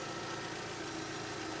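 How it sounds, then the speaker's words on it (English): A Vauxhall Zafira engine idles after an EGR valve replacement, giving a steady, faint, low mechanical hum and vibration with no voices. "just leave it idling for about 10 minutes till the valve starts"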